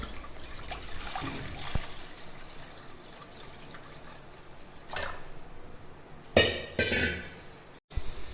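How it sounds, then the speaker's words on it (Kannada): Water trickles and splashes quietly into a metal pressure cooker, with a few sharp clanks and knocks of cookware near the end. "ಮೊದಲು ಒಂದು ಕುಕ್ಕರ್ಗೆ 3 ರಿಂದ 4 ಗ್ಲಾಸು ನೀರು ಹಾಕ್ಕೊಳ್ಬೇಕು"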